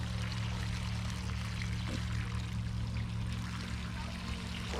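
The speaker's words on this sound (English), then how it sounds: "Just a matter of filling the holes with water now." Water poured from a can into planting holes on a UK allotment, a continuous close gushing stream splashing into soil with faint outdoor background and no voices.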